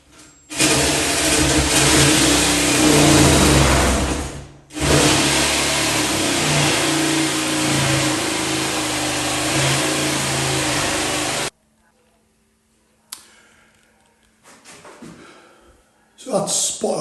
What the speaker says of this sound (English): just going to cut round the jigsaw